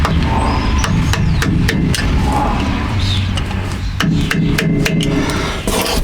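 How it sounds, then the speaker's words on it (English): Repeated sharp metallic hammer blows on a screwdriver bending over a nut during rear brake work, about a dozen in irregular bursts, ringing close over a steady low workshop rumble. "bend it over, and then sink it home with the hammer and a screwdriver"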